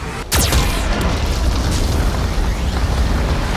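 Geth cannon fire in the video game Mass Effect 2, a heavy booming blast with a sharp onset followed by a loud, sustained rumbling roar that stays strong to the end.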